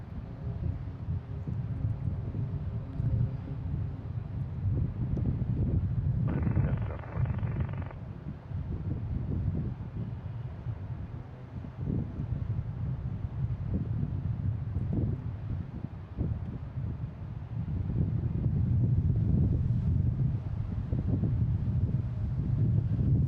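Strong wind buffeting a microphone at Boston Logan International Airport, a loud continuous rumbling roar that swells and eases in gusts, with a brief tonal whine partway through.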